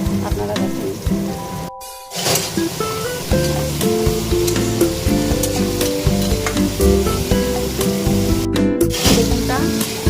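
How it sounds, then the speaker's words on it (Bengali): Eggplant pieces sizzle steadily in a hot pan over a high flame, with a utensil stirring and scraping at intervals and two brief clattering dropouts, loud and close throughout. "বেগুনটা এখন সময় ভাজবো।"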